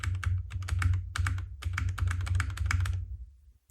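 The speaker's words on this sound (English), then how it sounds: "Now I press again some keys." Computer keys are pressed in a quick, uneven run of close clicks with a low hum beneath, recorded through a budget microphone and trailing off into quiet.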